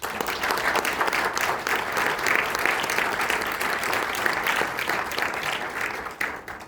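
A seated audience at a French book-game awards ceremony claps steadily and densely for several seconds, a full, even roar of hands that eases off right at the end.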